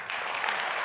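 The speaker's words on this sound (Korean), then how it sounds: "박수를 쳐서 감사드립니다" A church congregation claps together, a brief, even burst of dense applause that holds steady throughout.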